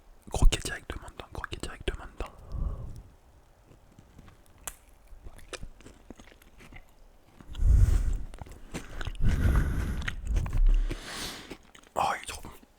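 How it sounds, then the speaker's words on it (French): Homemade mochi bitten straight into, a soft burst of close chewing and mouth sounds near the end, with whispered talk before and between. "je vais croquer directement dedans."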